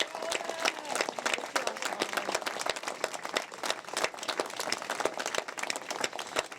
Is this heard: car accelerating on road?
no